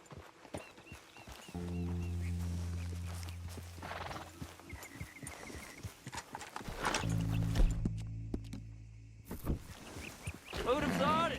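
Horse hooves clip-clop steadily in Red Dead Redemption 2 as a rider sets off, a rhythmic trot with a whinny, running beneath a sustained musical drone and bursts of other game sounds.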